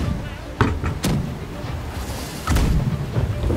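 Ship cannon fire from the pirate naval game Blackwake: a few heavy booms spaced across the stretch, loud and close, over a steady rumble of background game noise.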